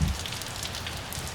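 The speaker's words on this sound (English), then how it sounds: "It's raining hard." Heavy rain pours steadily onto a Corvette, a dense hiss of drops striking a surface close by, with a low rumble underneath and no voices.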